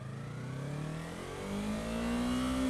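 The engine of a 2015 Yamaha R3 motorcycle accelerates, its smooth tone climbing steadily in pitch over a few seconds, fairly faint and with no talk.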